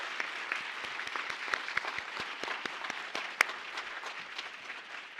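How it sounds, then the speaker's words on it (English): An audience at a gubernatorial candidate forum gives the candidate panel a sustained round of applause, a dense patter of many hands clapping at moderate distance, steady throughout with a few sharper claps standing out. "can we have one more round of applause for our panel of candidates?"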